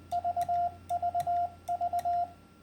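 Morse code letter V keyed at 20 words per minute, a steady mid-pitched tone repeating three short dits and a long dah, sent three times in a row, clean and moderately quiet with no talk.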